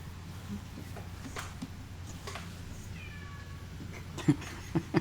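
A cat in a quiet room gives distant, drawn-out yowls in the background, followed by a few short, closer and louder meow bursts at the very end.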